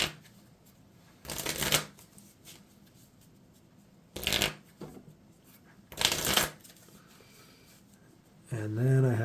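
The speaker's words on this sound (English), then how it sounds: "And then I need to shuffle the deck." A deck of encounter cards being shuffled during a Marvel Champions card game, three separate riffling bursts between quiet pauses, with a voice speaking briefly near the end.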